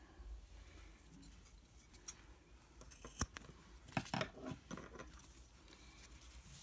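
Scissors cutting through fabric while making a fabric necklace, a few faint close snips scattered across a quiet stretch.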